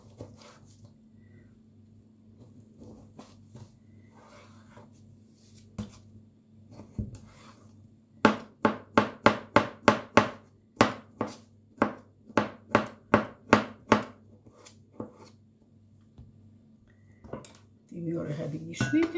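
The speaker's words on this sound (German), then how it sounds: "Die Möhre habe ich geschnitten" A knife chops carrots for a salad on a board, a fast run of about a dozen sharp, evenly spaced cuts after a few scattered taps, with a low steady hum and a voice speaking before and after.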